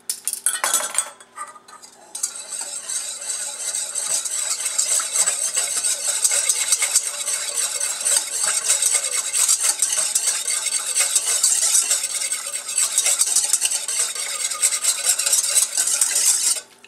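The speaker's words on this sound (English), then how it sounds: "I'm just going to whisk it around a little bit just to make sure it gets in there good." Whisk stirring ingredients in a bowl to dissolve them while making focaccia bread, a steady, close scraping and clinking of metal against the bowl that runs continuously and loudly with no talk.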